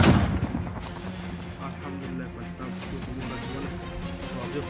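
Heavy, continuous gunfire from Taliban fighters along the Durand Line on the Pakistan-Afghanistan border rattles and booms in dense volleys, loud and unbroken throughout in a war news report.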